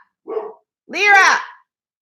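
A pet dog barks indoors, a short yelp followed by a longer, louder bark, close by with no talk over it.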